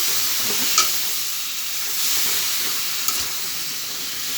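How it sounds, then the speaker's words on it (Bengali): Vegetables tossed with turmeric hiss and sizzle steadily in hot oil, with a couple of brief stirring scrapes standing out near and fairly loud over the constant frying. "একটু তেলে ভেজে নেবো আর কি।"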